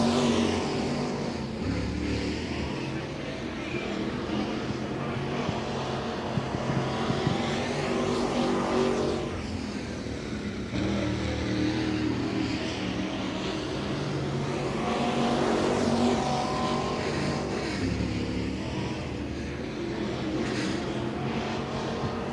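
Late model race cars run laps on the Senoia Raceway speedway at a World of Outlaws Late Model Series event, their engines roaring loud and continuous with rising and falling passes that swell and fade.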